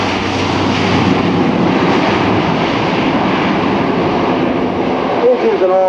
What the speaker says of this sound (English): He's using all that reverse thrust.